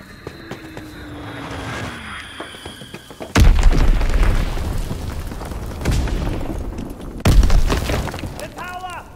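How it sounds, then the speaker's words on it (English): Bombs explode in a Call of Duty WW2 battle, three heavy booming blasts with rumbling tails after a droning aircraft passes, voices calling out in between. "Enemy bomb incoming. Get to cover."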